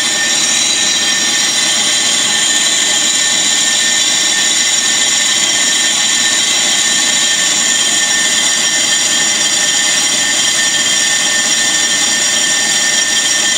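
A brake lathe turning a brake drum gives a continuous, loud, steady machine whine with a bright, hissing cutting tone, even and unbroken throughout, with no voices.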